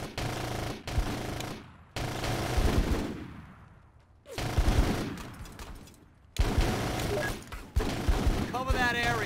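Gunfire in the video game Full Spectrum Warrior: Ten Hammers: loud, rapid bursts of automatic fire in several blocks separated by brief pauses, with a short voice heard near the end.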